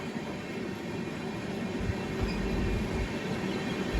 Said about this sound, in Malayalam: ഇവിടെ ഒരു ട്രെയിൻ കിടക്കുന്നുണ്ട്.